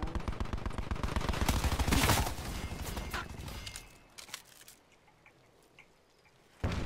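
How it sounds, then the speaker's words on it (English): A light machine gun fires in a first-person shooter video game, a fast, loud, sustained burst of rounds that fades out with scattered distant shots before a sudden loud noise returns at the end. "Heard that light machine gun going off."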